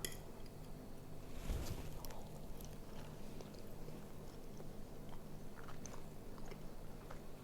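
Someone bites into and chews a cinnamon apple fritter cake, with one crisp bite followed by soft, close chewing and faint clinks of cutlery on a plate, no speech.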